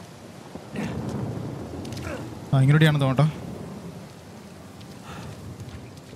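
Rain falls steadily on an island in the video game Uncharted, a soft constant hiss with a low rumble, while someone talks over it briefly.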